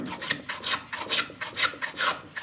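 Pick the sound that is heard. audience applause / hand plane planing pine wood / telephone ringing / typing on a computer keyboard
hand plane planing pine wood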